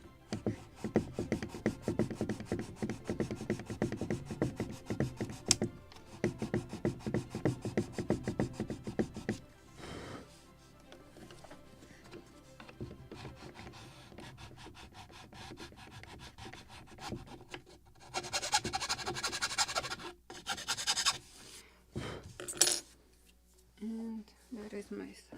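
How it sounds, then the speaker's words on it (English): Sandpaper rubbed along the edge of a wooden plank on a 1776 gunboat Philadelphia model ship kit, giving a steady close scratchy rasp with short pauses, plus someone talking. "There is my sandpaper. Just will try to make it soft edge, rounded one"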